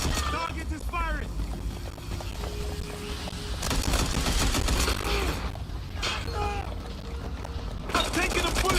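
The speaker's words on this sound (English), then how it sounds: "Target is firing!" Enemy gunfire in the video game Watch Dogs Legion crackles in bursts over dense game sound and music, with someone talking loudly throughout.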